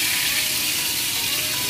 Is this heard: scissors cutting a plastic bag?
no